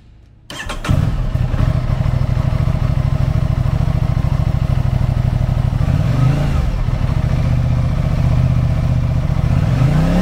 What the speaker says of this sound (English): Powered by a 659cc parallel twin engine, the RS660 puts 100 horsepower and 49 foot-pounds of torque through a 6-speed transmission.